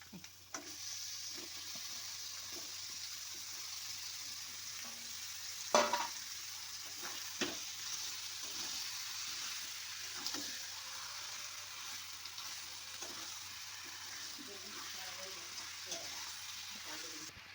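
Chicken pieces go into spiced masala in a pan for a chicken curry, giving a faint, steady sizzle with scraping stirs and a few sharper clinks throughout.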